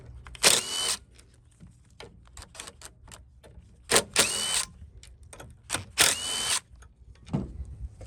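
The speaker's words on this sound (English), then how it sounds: "Standard Briggs, remove these 3 bolts. They're 5/16." Power tool backing out three 5/16 bolts on a Briggs engine of a Craftsman lawn mower, three loud whirring bursts of about half a second each, separated by quieter handling clicks.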